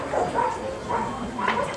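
A gun dog at a field trial at the CLA Game Fair 2015 gives repeated high whines and short yips. The cries are close and moderately loud, coming in a quick rhythmic series over low background noise.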